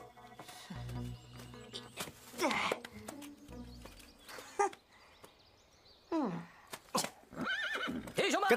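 Horses neighing and whinnying several times, loud and close, with hoof clatter and people talking in between.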